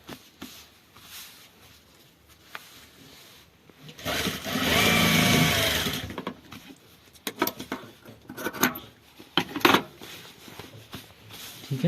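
A sewing machine stitches a trouser back pocket in one sustained whirring run of about two seconds. Scattered rattles and handling clatter come before and after it.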